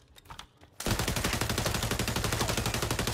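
In XDefiant, brief quiet rustling gives way to loud, sustained automatic gunfire, a dense run of rapid close-range shots that keeps going to the end.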